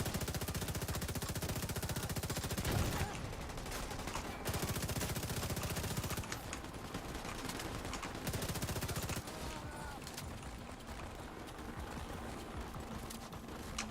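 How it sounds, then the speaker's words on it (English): Sustained rapid automatic gunfire in a shooter video game. A dense, rattling stream of shots runs steadily throughout with short shifts in intensity, and faint voices sit underneath. "Who are you shooting at?"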